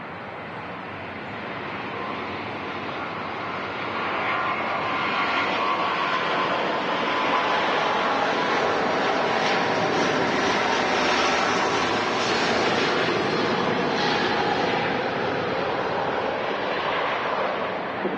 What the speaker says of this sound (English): that Rolls-Royce XWB growl sounded nasty